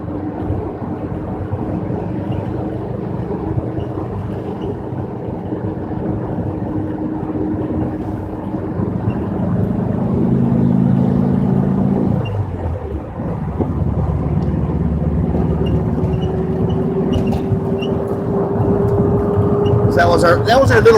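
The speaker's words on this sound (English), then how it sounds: "That was our little ride down Route 66" A vehicle cruising along Route 66, heard from inside as a steady, loud low engine and road drone with wind buffeting, the pitch shifting midway as speed changes, and a few faint clicks near the end.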